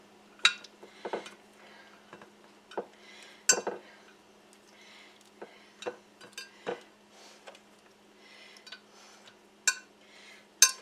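Zucchini slices are laid one by one into a casserole dish for a tomato-zucchini casserole, giving scattered light clinks and taps of utensil on dish amid quiet rustling.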